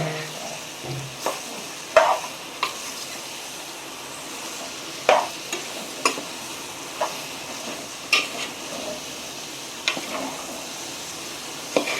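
Chicken sukka is stirred and mixed as it fries in oil in a village kitchen, giving a steady soft sizzle broken by scattered scraping and stirring knocks at close range.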